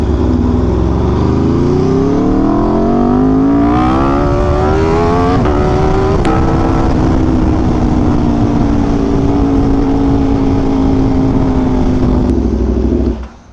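An Aprilia RSV4 1100 Factory motorcycle is ridden on the road, its engine note climbing steadily through the gears and then holding a loud, sustained drone with wind roar, close and continuous until it cuts off at the end.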